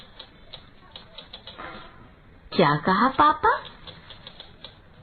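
Light, rapid clicks of a typewriter as a story is typed, faint under a voice that speaks briefly in the middle.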